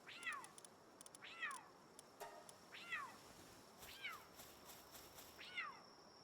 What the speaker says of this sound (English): Kitty. I hear kitty noises.